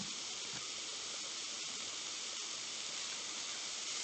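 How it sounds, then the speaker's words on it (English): Chicken breasts sear in a hot pan, producing a steady broadband sizzle and hiss that stays even throughout, with no voices. "This is how they're searing up, getting toast on the bottom."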